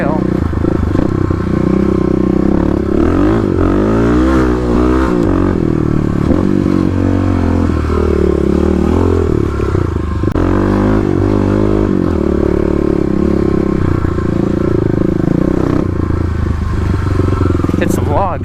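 Stage 3 Kawasaki KLX351 dirt bike ridden along a rocky Oregon forest trail, its engine droning loud and close with repeated revs and clatter throughout, a voice talking over it.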